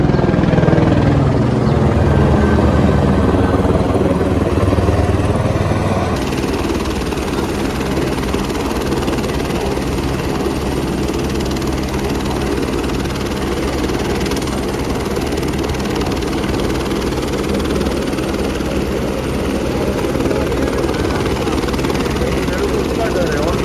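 Helicopter at the Katra helipad, a loud continuous rotor and turbine drone with a low thudding pulse that shifts after a few seconds, holding steady throughout, with voices underneath.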